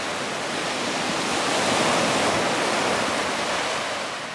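Ocean waves of Suruga Bay roll onto the shore at Senbonhama Park beach, a steady broad wash of surf that swells slightly in the middle, heard alone with no voices.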